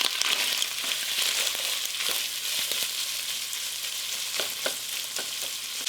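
Chopped white onion sizzles steadily in hot sausage meat juices, a continuous close frying hiss broken by occasional sharp crackles and the scrape of stirring.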